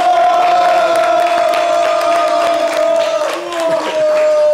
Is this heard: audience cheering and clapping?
yes